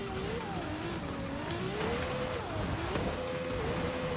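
Ferrari supercar driven in Forza Horizon 5, a steady engine tone rising and falling in pitch as it accelerates and eases off, with faint tire noise, continuous and fairly close throughout.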